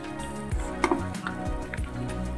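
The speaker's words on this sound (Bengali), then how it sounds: "এবার এটা দিয়েও আমি বেশ কিছুক্ষণ কষিয়ে নেব" Ground coriander, cumin, salt, chili powder and turmeric fry gently in a pan, giving a soft steady sizzle broken by a few scraping stirs, with no talking.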